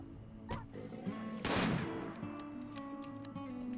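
Gunfire in RimWorld: a few scattered shots crack out, then a louder burst of fire, and sparse pops follow over a steady low hum.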